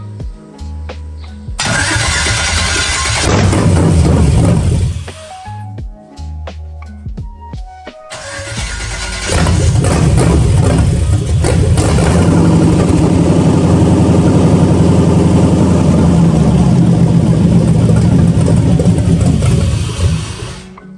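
A BMW E46 with an LS V8 engine swap cranks and fires up loudly, stalls briefly, then restarts and settles into a deep, steady idle with a strong rumbling drone held close to the microphone.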